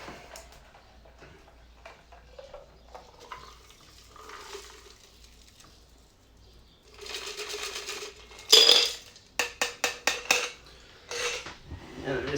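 A cocktail being double strained, liquid pouring through a strainer with a short burst of metallic clinks and rattling ice against a shaker, fairly close, after quieter handling noises.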